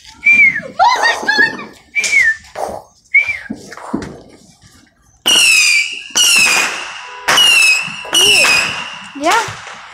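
Fireworks going off and popping in the air, heard as a run of shrill rising whistles and squealing bursts, several loud repeated blasts close by with short gaps between them.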